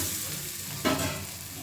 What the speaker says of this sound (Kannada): ಎಣ್ಣೆ ಹಾಕ್ಕೊಂಡು ಈಗ ರೊಟ್ಟಿನ ಇನ್ನೂ ಸೈಡ್ ತಿರ್ಸ್ಕೊಳ್ಳೋಣ.